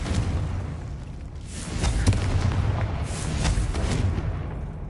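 Fire-blast spell bursting in a wizarding video game, two broad explosive booms a second or so apart, each with a rumbling tail, loud and close with no talk.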